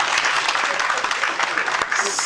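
Applause from an audience at a book dedication ceremony, a dense clatter of clapping with voices mixed in, fairly close and continuous.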